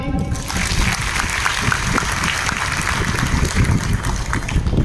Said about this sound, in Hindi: एक बार ठोक दीजिए ताली